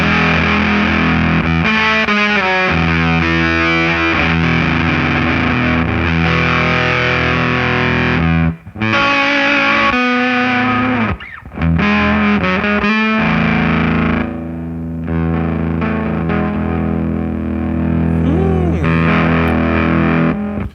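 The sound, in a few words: electric guitar bridge pickup through 90s Dunlop Fuzz Face pedal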